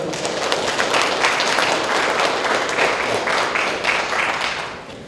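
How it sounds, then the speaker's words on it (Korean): Listeners at an academic symposium on rock inscriptions and rubbings give sustained applause, a loud, even wash of many clapping hands that fades slightly toward the close. "다시 한번 우리 홍 교수님께 큰 박수 부탁드리겠습니다."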